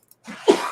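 A single sharp sneeze bursts out close by, with a quick inhaled lead-in just before it, then a short trailing breath; no talk during it.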